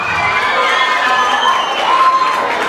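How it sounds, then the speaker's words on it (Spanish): Crowd at a Mojiganga festival contest in Tepalcingo cheering and applauding a contestant, a dense, steady wash of shouts, whistles and children's voices close by, with no break across the clip. "Venga, fuerte el aplauso para Daniela."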